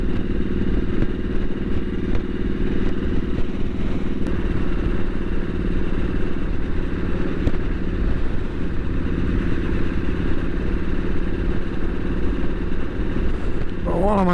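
A Triumph SS 900 motorcycle engine runs steadily throughout, a continuous rumbling drone heard from the rider's position with no pauses.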